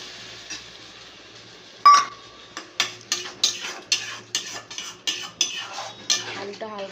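A spoon taps and knocks against a bowl and metal pan a dozen times in quick succession, sharp close clinks after one louder strike, while spice residue is rinsed out with hot water into a paneer curry.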